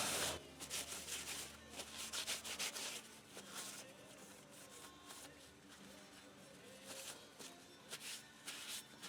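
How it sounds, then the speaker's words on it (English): Scraping and rubbing as a machined metal part is deburred after turning on a lathe, a steady series of close, rough strokes with short bursts of grinding hiss, no talk. "so I have to deburr it."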